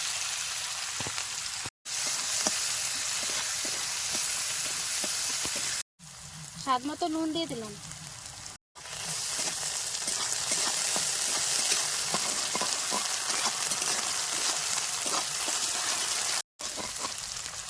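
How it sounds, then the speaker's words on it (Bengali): Chopped onions frying in mustard oil with cumin, a close, steady sizzle broken by a few short cuts, while someone speaks briefly partway through. "জিরাটা ভাজা হয়ে গেছে এবার কুচোটা পেঁয়াজ দিলাম"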